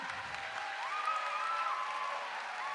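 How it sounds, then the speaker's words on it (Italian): A crowd at an outdoor village event applauds a woman called to the centre, a soft, even wash of distant clapping with a faint tonal whistle or feedback line gliding through. "te lo devi prendere tutto l'applauso e lo merita, un applauso forte"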